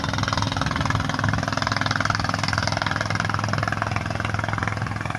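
A river trawler's diesel engine chugs in a fast, steady, even rhythm as the boat turns on the Shitalakshya River, moderately loud and unbroken, with no talking.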